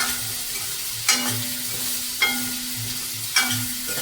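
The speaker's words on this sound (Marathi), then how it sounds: "असं परतू घ्यायचं." Pumpkin for kadhi is sautéed in a pan, giving a soft, steady sizzle. A spatula scrapes and stirs in a repeating rhythm, with a sharper scrape about once a second.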